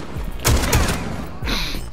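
Shotgun blasts in Rainbow Six Siege, two sharp close booms a quarter second apart, then a duller thud, over steady game ambience.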